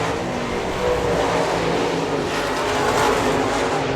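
Late model cars race around a dirt track at Victory Lane Speedway in Manitoba, engines droning in a steady, moderately distant roar that swells slightly as they pass.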